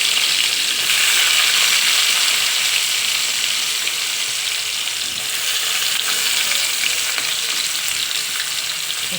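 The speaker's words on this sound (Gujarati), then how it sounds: "ત્યારબાદ એમાં જે ડુંગળી સુધારી હતી આપણે તે નાખી દેવાની છે।" Chopped onions sizzle and fry steadily in a hot pan with curry leaves and garlic, a loud continuous crackle lasting throughout with no talking.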